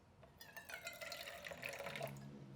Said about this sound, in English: just gonna put a little bit of water